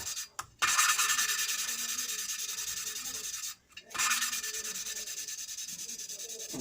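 Close, steady diamond abrasive sanding on an Opel Combo 1.6 petrol, a continuous gritty hiss that stops briefly twice, with no talking.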